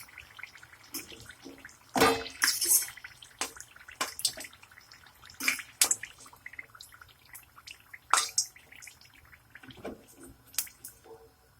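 Fried semolina ring dessert, made from semolina, flour and water, being lowered from a pan into syrup, giving scattered wet drips, splashes and squishy sizzling clicks, close and moderately loud.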